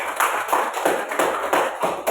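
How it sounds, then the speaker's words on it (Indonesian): Students in a classroom clap together in a short patterned rhythm, about seven or eight distinct group claps in quick succession, close and fairly loud. "Tepuk tangan sekali lagi."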